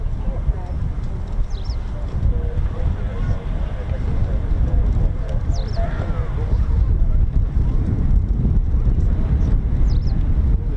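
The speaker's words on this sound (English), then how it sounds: "Oh, it's a bit windy, isn't it?" Steady wind buffets the microphone at RAF Lakenheath, a constant low rumble throughout with faint distant background sounds and voices nearby.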